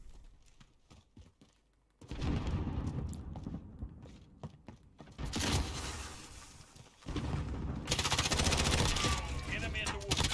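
Call of Duty Black Ops Cold War multiplayer gunfire: scattered single shots early, then sustained loud bursts of automatic fire in waves, with brief lulls between them.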